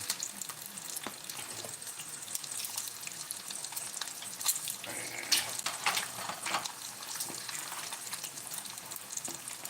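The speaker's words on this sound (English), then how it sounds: "I need to stir that again. Stir this one more time." Gravy in a pan sizzles and bubbles steadily while it is stirred, with scraping and clattering utensil sounds over it.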